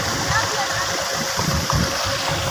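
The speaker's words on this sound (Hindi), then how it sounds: "ये देखें ये नहर का पानी आ रहा है" Canal water pours from a village tubewell channel into the fields, a steady near rush of flowing, splashing water with gurgling bursts throughout.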